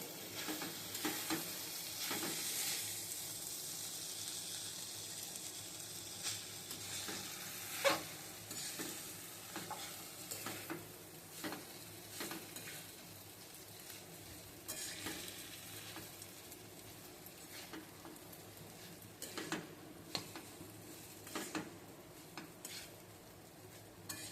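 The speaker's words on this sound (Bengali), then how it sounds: "আমি চাউমিনটা দিয়ে দেবো ঢেলে করে মিশিয়ে নিই" Chow mein stir-fried and tossed in a pan, a continuous soft sizzle with intermittent scrapes and clinks of a utensil against the metal as the noodles are mixed, fairly quiet and without talk.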